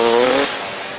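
A loud, close Yamaha DT 125 motocross motorcycle engine whines at high revs, then drops abruptly to a lower steady drone.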